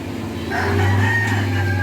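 A pet rooster crows in a backyard setting among chickens kept by a bird raiser, its loud, drawn-out call filling the clip over a steady low background hum.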